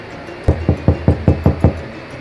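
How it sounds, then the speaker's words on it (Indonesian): Six steady knocks on a door, evenly spaced and close, sharp and solid against a quiet room, used as a horror story sound effect. "suara ketukan itu pun kembali terdengar oleh Anton"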